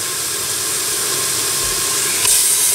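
Onions and meat browning in olive oil in a pan, giving a steady, loud, close sizzling hiss that runs without a break and swells slightly near the end, with no talk.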